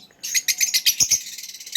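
Mutation lovebirds kept for sale and breeding give a close, loud burst of rapid sharp chirps and twitters in quick irregular succession.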